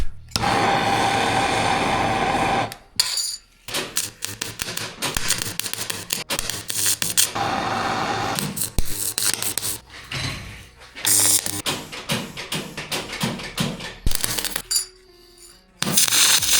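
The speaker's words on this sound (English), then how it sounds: "Let's try and see if we can weld the copper." A continuous loud hiss and roar of a welding torch working on copper pieces for a copper rose, running steadily with a few short breaks and clinks of metal.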